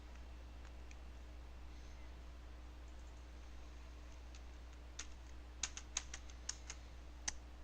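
Sparse keyboard clicks on a computer keyboard during a live trading session, a few scattered taps early and then a quick cluster of crisp keystrokes near the end over a steady low hum.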